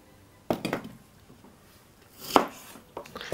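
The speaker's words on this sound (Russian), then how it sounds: "лук, нужно резать наоборот покрупнее" A knife chopping onion into large chunks on a board, a few sharp separate cuts with quiet gaps between them, close and crisp.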